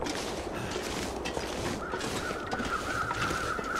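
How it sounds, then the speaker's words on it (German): Crows cawing in the winter survival game The Long Dark, calls rising over a steady, windy ambient hiss, with a thin sustained tone entering partway through. "jetzt sind die Krähen da"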